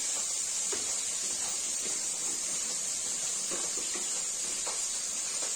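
Pabda fish sizzling in hot oil, frying alongside a curry of eggplant, a steady broadband hiss with faint crackles and pops, continuous and fairly close with no talking.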